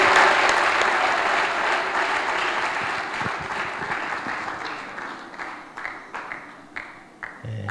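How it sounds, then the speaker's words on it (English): A church congregation applauds after a sermon, starting as a thick, loud wash of clapping that gradually fades into sparse individual claps. "clap for me"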